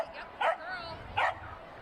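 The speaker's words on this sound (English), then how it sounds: "Lots of racket, lots of barking." Dogs barking at a racetrack event, two sharp barks about a second apart rising over a faint whining, nearby and fairly loud.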